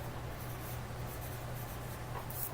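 Pencil scratching on paper as a name is written, a steady quiet scribble continuing throughout over a low background hum, with no talking.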